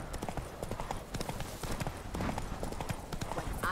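Roach the horse galloping in The Witcher 3: rapid, close hoofbeats in a steady rhythmic clip-clop, moderately loud, with faint game ambience beneath.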